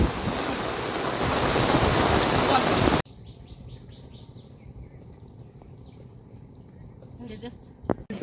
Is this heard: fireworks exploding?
no